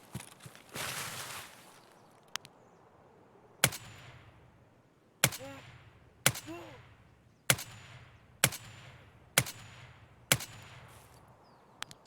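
Lone Star TX-15 DML rifle in Escape from Tarkov firing a string of single loud, sharp shots spaced about a second apart, with a brief rapid burst at the start and faint metallic ringing between cracks.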